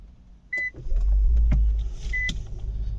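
A 2017 Infiniti Q50 Hybrid starting, with two short electronic beeps followed by a low steady hum as the system powers up, close and fairly quiet.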